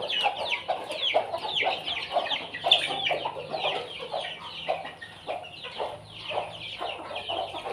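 Native country chickens, hens with a rooster among them, cluck steadily in a coop. The choppy, overlapping calls are near and continuous throughout, with no talking.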